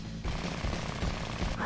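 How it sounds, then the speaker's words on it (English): Machine cannon firing in the mecha strategy game Super Robot Wars Z2, a dense, loud, continuous burst of rapid gunfire with low rumbling impacts throughout. "Machine cannon."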